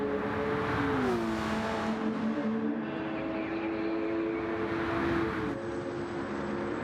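Racing cars on the Deep Forest Reverse track in a video game roar close and loud, with engine tones rising and shifting as two cars run neck and neck down the start-finish straight.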